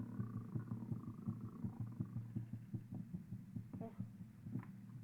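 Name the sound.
heartbeat sound effect from a video game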